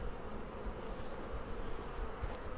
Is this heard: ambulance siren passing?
no